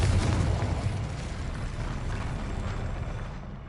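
A Confringo explosive spell blasts in Hogwarts Legacy, a loud, dense roar with a heavy low rumble that hits hard at the start, then holds and slowly fades over a few seconds.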